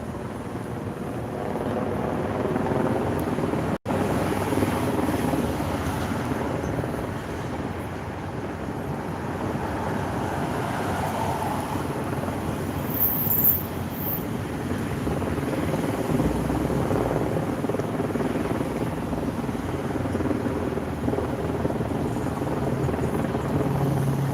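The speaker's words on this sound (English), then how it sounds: "There still is a helicopter hovering overhead." A helicopter hovers over a protest in LA's Fairfax District, its low rotor thrum continuous and fairly close, with a brief sharp knock near the start.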